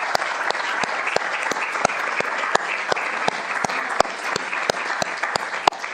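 A conference audience applauds to welcome the President of the European Parliament at an academic freedom event, with steady, dense clapping and sharp regular accents standing out, loud and continuous throughout.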